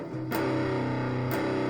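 A sustained distorted electric guitar chord rings out, struck twice with a brief break, thick and buzzy with no talking.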